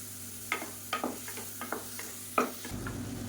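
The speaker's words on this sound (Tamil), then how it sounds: "இப்போ தக்காளி ஓரளவுக்கு நல்லா வதங்கிடுச்சு" Tomato sautéing with salt in a pan for a soup, a soft low sizzle punctuated by about eight distinct spoon scrapes and taps at uneven intervals.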